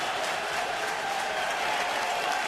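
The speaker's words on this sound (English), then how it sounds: "That's the visiting team fans cheering Lance Berkman at Minute Maid Park." Visiting team fans at Minute Maid Park cheer Lance Berkman during a Cardinals–Astros baseball game, a steady, dense wash of crowd applause and cheering that holds even throughout.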